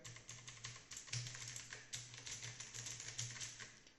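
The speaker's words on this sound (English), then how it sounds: "The keys have a very clicky sound," Rapid clicky keystrokes from an HP GK100 RGB backlit mechanical gaming keyboard, a steady stream of sharp close taps with a few louder key presses, no voices.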